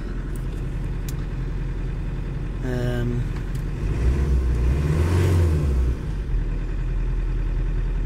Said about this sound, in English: it's a lovely engine, very very smooth.